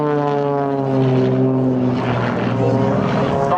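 Matadors aerobatic propeller aircraft performing at the 2013 Shoreham Airshow, giving a steady, loud, tonal engine and propeller drone that holds throughout and swells slightly partway through.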